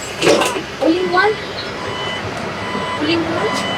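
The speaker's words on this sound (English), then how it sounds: "Oh yeah, we hear the sound of the bus." A bus at a national park sounds repeated reversing beeps in short bursts at moderate distance, while people nearby talk over the rumble.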